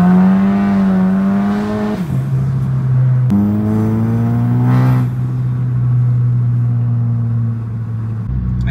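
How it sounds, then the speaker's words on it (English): A turbocharged MK6 VW GLI does a burnout on a hot day to clean tar off its tyres, the engine revving hard and then holding a loud, sustained drone with rumbling exhaust, close and uninterrupted. "this is how you get all the tar off your tires."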